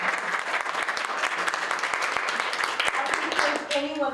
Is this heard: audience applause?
yes